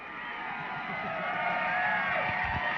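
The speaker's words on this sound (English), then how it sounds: "The Rabbit crowd's getting into it" Atlanta Rabbits home crowd cheering at a state quarterfinal high school football game at SFA Stadium, a loud, continuous roar of many voices with whoops throughout.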